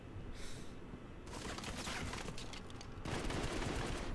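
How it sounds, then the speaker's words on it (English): Gunfire in the mobile shooter Modern Combat 5: Blackout, with bursts of automatic rifle fire that grow denser and louder toward the end, moderately close and without talk. "why would you be shooting at me, man?"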